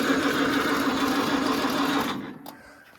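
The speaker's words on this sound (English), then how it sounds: "You're gonna have to crank it for a little bit." A Farmall Cub tractor engine cranks over, a steady, rapid, close mechanical whir that holds for about two seconds, then cuts off and trails into quiet with a faint click.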